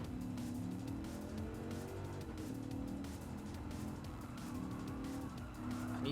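A race car in Gran Turismo 7 at Willow Springs sliding out of control, its engine droning steadily beneath a long tire squeal and skid, continuous and fairly loud for the whole stretch, with no talking.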